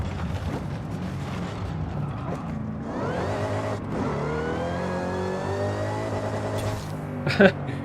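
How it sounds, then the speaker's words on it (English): A Forza Horizon 5 video game car engine revs high and holds there, its pitch rising, then stuttering against the rev limiter, with a voice talking over it. "it sounds really good when it bounces off the limiter."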